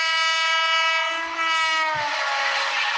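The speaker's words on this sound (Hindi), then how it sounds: "ट्रेन की आवाज, ट्रेन की आवाज कहाँ से आ रही है?" A passing train sounds a loud horn whose pitch drops as it goes by, with rumbling rail noise underneath, close and alone without talk.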